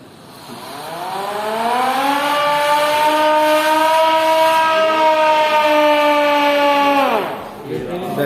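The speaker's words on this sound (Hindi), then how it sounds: "ये सायरन होता था पहले, कोई भी इमरजेंसी हो गई।" An old railway emergency siren at a railway museum in Pakistan winds up, holds a steady loud wailing tone for several seconds, then winds down and fades out.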